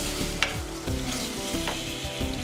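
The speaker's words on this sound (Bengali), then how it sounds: "এখন আমি চিকেনটাকে ভালো করে কষিয়ে নিব, নাড়তে থাকতে হবে।" Chicken sizzles in a pan while being sautéed and stirred, with a few distinct scrapes and clatters of a utensil over a continuous close hiss.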